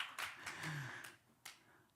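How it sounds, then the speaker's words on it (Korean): A few scattered, soft hand claps from a small church group during a Friday sermon, several quick sharp slaps followed by one more, with faint voices beneath. "박수"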